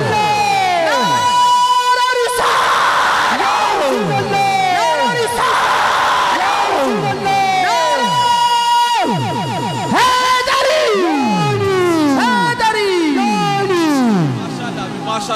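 A large congregation at a Shab-e-Meraj religious gathering chants a religious slogan in unison, with loud, repeated rising-and-falling shouts from many voices in rhythmic waves that keep going throughout.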